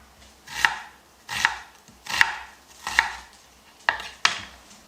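A knife chops an onion on a cutting board in six crisp, evenly spaced strokes, close and clear with quiet gaps between them.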